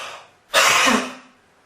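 A single sharp, forceful breath huffed out, loud and close, fading over about half a second.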